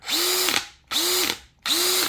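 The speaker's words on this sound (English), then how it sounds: "You can actually feel the impacts through the drill too, so something's kind of clacking." A new Bosch 975 drill whirs in three short trigger bursts, each ending with a mechanical clack or ratchet-like rattle as the trigger is released, loud and close with no talking.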